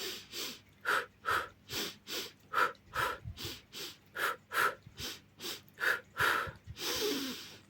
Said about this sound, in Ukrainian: Повний вдох і повний видих